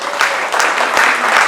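An audience at a substance-recovery workshop breaks into a short burst of applause, a dense wash of clapping that holds steady for about a second and a half.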